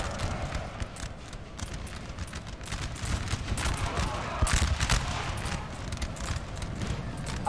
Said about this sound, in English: There's flashes of musket fire all over the place.